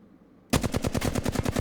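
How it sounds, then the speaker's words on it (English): Flatline assault rifle in Apex Legends fires a sustained automatic burst, rapid evenly spaced shots starting abruptly after a brief quiet lead-in, loud and close with no talk. "why is my flatline kicking to the side?"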